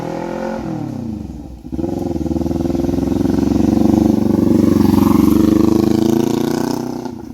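Loud, close motorcycle with straight-pipe exhaust and no rear fender, a deep sustained engine drone that dips briefly near the start, then builds and holds steady as the bike is ridden, easing off at the end.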